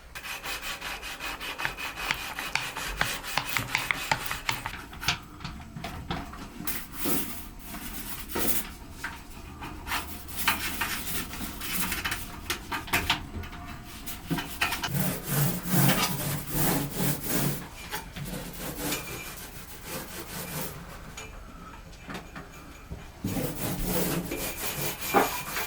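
Hand sanding on the mouldy cabin surface of a 50-year-old catamaran makes repeated rough scraping strokes, close and fairly loud. The rubbing runs in bursts with short pauses between them.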